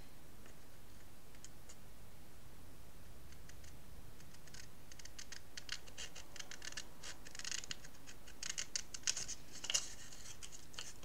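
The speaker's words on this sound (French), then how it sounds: "On va donner un coup de ciseau de cet angle-là à cet angle-là." Scissors snip through paper card for a craft folio, a faint series of small crisp cuts and ticks that quicken and grow denser toward the end, with no voices.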